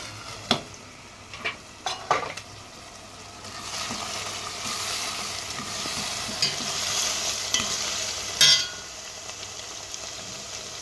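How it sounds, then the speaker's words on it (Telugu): Onions frying and softening in a pan, a steady low sizzle under occasional stirring scrapes and clinks of a spoon against the pan, close by with no talk. "ఉల్లిపాయలు అయితే మగ్గిపోతున్నాయండి"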